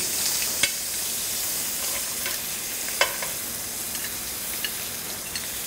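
Clams added to a pan of crispy-skinned fish frying for cioppino, giving a constant bright sizzle broken by a few sharp clicks and clatters of shells and utensil, close by with no voices.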